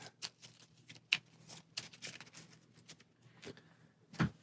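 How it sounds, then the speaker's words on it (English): A tabletop encounter deck for the Marvel Champions card game is shuffled, giving a rapid run of crisp riffling card flicks and soft taps, close and fairly quiet, with no talk. "And shuffle our encounter deck."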